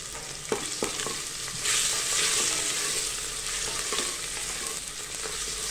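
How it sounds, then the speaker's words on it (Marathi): Mutton fat sizzles in hot oil for a Satara-style mutton dish, a close, continuous frying crackle punctuated by a few sharp stirring knocks, swelling louder partway through as the fat is turned. "मटणाच्या आधी ही जी आपल्याला चरबी आलेली आहे मटणामध्ये, ती आपल्याला अशी परतून घ्यायची तेलामध्ये।"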